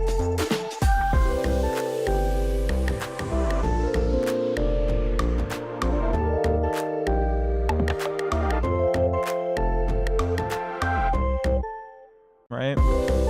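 Synth chords with a high flam setting roll out as quickly staggered notes, bright and heavily driven in a busy rhythmic pattern, loud and close before a brief drop near the end.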